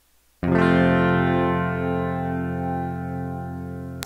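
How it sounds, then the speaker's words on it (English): A single guitar strum is processed through a long reverb plugin, starting with a sharp attack and then holding as a dense, sustained harmonic wash that decays only slightly over several seconds. "Really long reverb time,"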